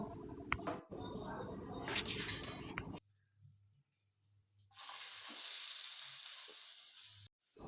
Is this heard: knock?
no